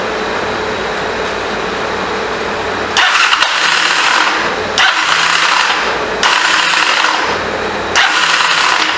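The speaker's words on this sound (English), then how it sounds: "it just sounds like starter's not doing anything" A 1985 Honda CMX 450 Rebel motorcycle's starter cranks in three loud whirring bursts separated by short pauses, the engine never catching, after a steady background hum.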